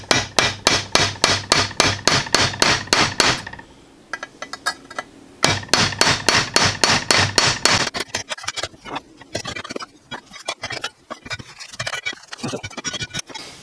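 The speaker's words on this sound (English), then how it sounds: "I'm gonna gently tap them with a hammer and just kind of massage it back in." A hammer taps steadily on a damaged meat slicer blade in quick, bright metallic strikes, two long runs of regular ringing blows separated by a short pause, then lighter, irregular clinks and scrapes close by.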